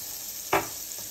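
A small onion frying in a pan for a vegan zuppa toscana, with a single short scrape of stirring over a faint, steady sizzle; quiet and close, no talking.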